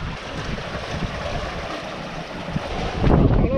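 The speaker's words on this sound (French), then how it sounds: "Ça souffle bien entre 15 et 20 nœuds" Steady wind of 15 to 20 knots roars across open water in the Gulf of Patras, broadband rushing noise, a louder gust swelling near the end over the wash of waves.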